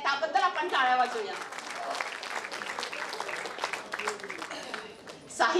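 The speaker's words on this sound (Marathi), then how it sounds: "त्याबद्दल आपण टाळ्या वाजवूया" Audience applause fills the hall at the Manorama literary award ceremony in 2024, a steady burst of clapping that swells, then trails off, with a voice speaking over it.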